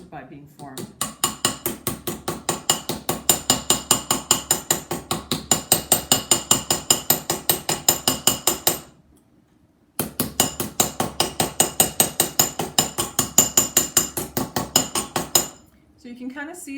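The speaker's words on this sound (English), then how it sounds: "So we're basically just hitting against this." A hammer forges bottle cap tin against a hardened steel block in fast, evenly spaced metallic strikes, two long loud runs split by a brief pause.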